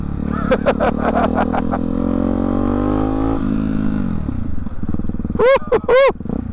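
A motorcycle with a loud aftermarket Hyper 698 S1 exhaust, reaching about 104 dB at 4,800 RPM, revs up through rising pitch, then drops back, with sharp throttle blips near the end.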